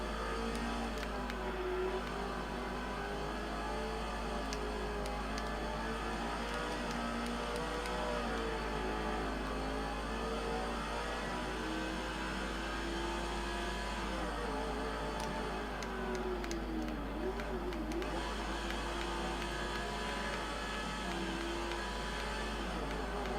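A high-pitched race car engine whine from NASCAR 05 at Daytona holds loud and steady throughout, its pitch wavering and rising as the motor revs hard.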